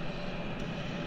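A jet aircraft engine in the video game Battlefield 3 roars as a steady, loud broadband rush throughout the short stretch, with no talk over it.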